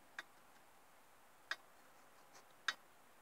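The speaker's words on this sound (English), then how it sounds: "Making that ticking sound" Faint, sparse metallic ticks from a Qualcast lawnmower engine, three distinct clicks spaced about a second apart against a quiet background.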